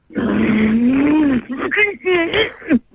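A human voice imitates a big-engine Formula 1 race car, a loud, close, sustained revving drone that rises and falls, then breaks into shorter revving bursts.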